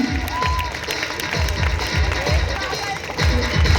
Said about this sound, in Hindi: Clap everyone, it's time to good celebration.